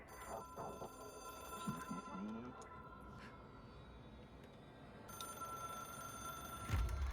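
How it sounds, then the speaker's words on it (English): In the video game Control, a telephone rings faintly in the distance, its thin bell barely rising above a low, steady ambient drone across the quiet scene. "Ringing in the distance."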